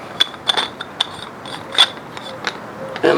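A part being screwed onto a Chevy Colorado 4x4 LT suspension tube fitted with blue or black durometer bushings, with close, quick ratcheting clicks and light metallic ticks in an irregular rhythm.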